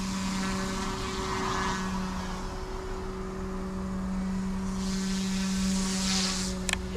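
An OMP M2 EVO RC helicopter hovering close by, a steady droning rotor whine with a constant motor hum throughout, no talking.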